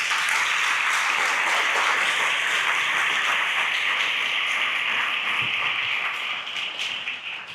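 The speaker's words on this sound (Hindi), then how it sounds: "क्या हम परमेश्वर के लिए ताली बजा सकते हैं?" A church congregation applauds with dense, sustained clapping at a steady level, tapering off toward the end, with no voices over it.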